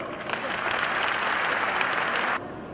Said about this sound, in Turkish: Hanımlar ve gençlerimiz için de bir alkış alalım.